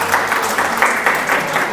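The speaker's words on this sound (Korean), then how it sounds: "우리 박수 한번 쳐주시겠어요?" Church congregation at a retreat sermon clapping hands together, a short steady burst of close, loud applause.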